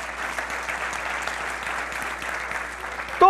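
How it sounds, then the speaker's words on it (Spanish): A church congregation claps together through a service, a steady dense patter of hands at moderate distance, with a voice breaking in near the end. "Dale un aplauso al Señor"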